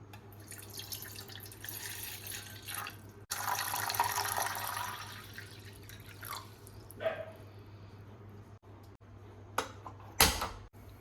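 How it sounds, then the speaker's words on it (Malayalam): Tap water running and dripping into a pot being filled for boiling eggs in a home kitchen, a faint continuous trickle with louder splashy bursts and a few clanks. "ഇനി നമുക്ക് വെള്ളം വെച്ച് കൊടുക്കാം അടുപ്പത്തേക്ക്."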